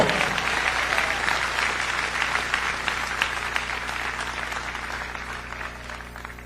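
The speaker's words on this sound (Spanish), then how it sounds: "Dele fuerte ese aplauso." Sustained applause from a large church congregation, steady and dense throughout with no pauses, fading slightly toward the end.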